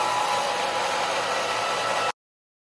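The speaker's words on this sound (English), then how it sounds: "Take your blow dryer, put it on medium heat and low." Blow dryer running on medium heat, a steady close whooshing hiss of airflow that holds evenly for about two seconds and then cuts off abruptly into silence.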